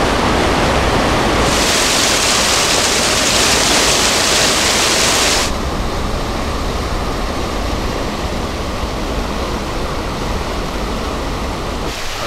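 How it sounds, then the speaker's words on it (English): Water pours through an opened overflow valve on a dam beside a creek, a loud, steady roaring rush that shifts slightly in tone partway through and continues unbroken. "Right now we've opened up an overflow valve on the dam to try to drop the water level down"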